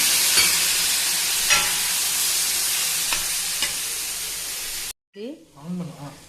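Onion and tomato masala sautéing in a pan for an egg pepper dish, a steady sizzle broken by a few sharp stirring scrapes, then a sudden stop followed by brief talk.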